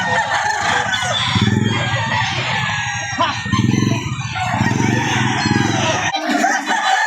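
A nine-month-old Golden Boy Sweater gamefowl rooster crows loudly and close by, several strained calls in a row, each with a ragged, harmonic tone.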